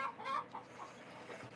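Chickens clucking inside a chicken coop, a few close, low murmured clucks repeating over a quiet background.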